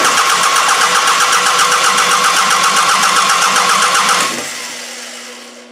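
A Toyota Camry engine cranks on its starter motor with a steady rapid chugging rhythm, loud and close, then cuts off abruptly, leaving a faint hum.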